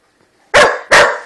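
A dog barks twice at close range, two short, loud, sharp barks separated by a brief pause, with no other sounds around them.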